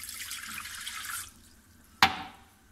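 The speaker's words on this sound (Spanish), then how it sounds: "le ponemos agua" Water runs into a pot for making a light syrup for an orange sponge cake, a steady rushing pour that stops, followed by one sharp clank.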